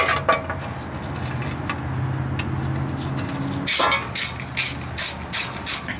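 Ratchet wrench tightening the hub assembly bolts on a 2009–2014 Ford F-150 during a front wheel bearing replacement, a run of close rapid clicks, then louder bursts of ratcheting near the end, no talk.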